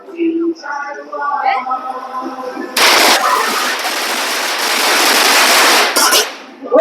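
A long string of firecrackers explodes at Chinese New Year in Chiang Mai Chinatown, bursting into a loud, dense crackling roll for several seconds after someone talks, then cutting off abruptly.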